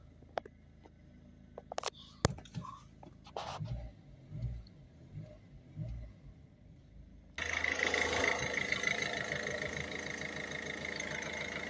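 A Ford Focus C-Max 1.6 TDCi diesel engine starts up and settles into a steady, loud idle after some clicks and cabin movement, the running engine holding a constant rumble to the end.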